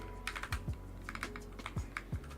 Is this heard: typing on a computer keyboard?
yes